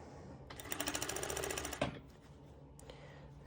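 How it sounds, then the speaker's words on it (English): A sewing machine runs a zigzag top stitch in a quick, even burst for about a second, then stops, leaving faint clicks and quiet room noise. "you can do this step with your normal sewing machine using a zigzag stitch"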